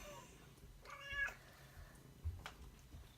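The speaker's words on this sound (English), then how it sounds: "Sorry, I have a very chatty cat." A chatty pet cat meows a few times, a soft, fairly close call followed by a shorter second one, against a quiet room background with light rustling and no talk.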